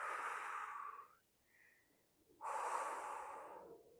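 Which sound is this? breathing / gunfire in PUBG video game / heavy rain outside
breathing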